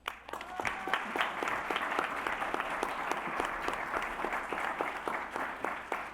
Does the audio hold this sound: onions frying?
no